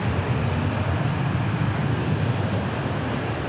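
An airplane begins its takeoff roll on runway 18 at DFW airport, a steady, loud roar of jet engines holding even throughout with no talk.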